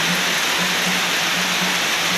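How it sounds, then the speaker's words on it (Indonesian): Heavy midday rain pours down on a village in Simeulue, Aceh, a loud, dense, unbroken hiss filling the whole stretch. "karena hujan lebat ya"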